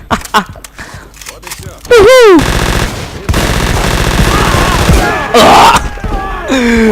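Rapid machine-gun fire and explosions from the video game Battlefield 2142 rattle loudly throughout, with swooping effect tones, while someone talks over the battle.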